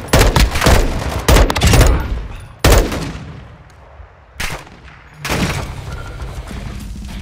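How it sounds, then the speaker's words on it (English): Bursts of automatic gunfire in Call of Duty: MW2 Warzone 2.0, loud close volleys broken by short gaps with more distant shots between them. "Oh, he's shooting already."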